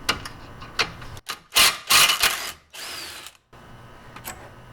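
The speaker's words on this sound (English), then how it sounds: "Now I'm going to be unbolting the sway bar end link from the LCA." A power tool whirs and rattles in short, loud bursts close by, unbolting a sway bar end link from the lower control arm of an MK4 Volkswagen Golf, with brief pauses and ratcheting clicks between pulls.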